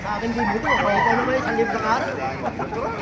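A rooster crows loudly among other chickens at a busy poultry market in Baliuag, with people talking close by throughout.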